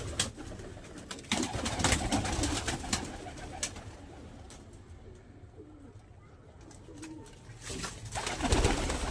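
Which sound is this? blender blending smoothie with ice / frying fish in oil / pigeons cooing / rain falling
pigeons cooing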